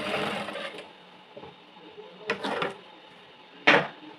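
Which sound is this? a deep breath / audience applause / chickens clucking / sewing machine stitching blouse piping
sewing machine stitching blouse piping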